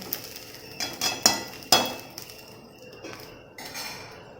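A metal lid clatters onto a pot on the stove after the gas is turned off, a few sharp clanks and knocks against the rim, followed by fainter scraping and settling sounds.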